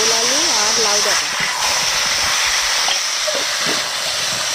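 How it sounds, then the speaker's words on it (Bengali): Sweet potato, potato and gourd stems fry in hot oil seasoned with black cumin, a steady loud hiss running throughout beneath a voice talking over the pan. "সবজিটা ভাজা হচ্ছে"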